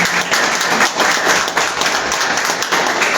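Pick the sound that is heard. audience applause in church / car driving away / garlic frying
audience applause in church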